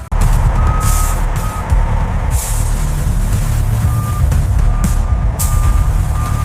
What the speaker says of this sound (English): The trucks head directly to the processing facility.